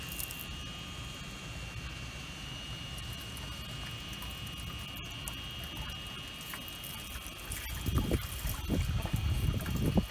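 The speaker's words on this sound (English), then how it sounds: "you're gonna pull your net up and rinse it down so that any plankton stuck onto the net are going to go into your catch" Water is poured over a plankton net to rinse it down into its catch container. A quiet background hum gives way to soft trickling and splashing near the end.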